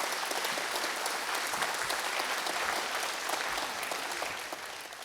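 A lecture hall audience at a memorial arts event applauds steadily, a dense, even wash of clapping from many people that tapers slightly at the end.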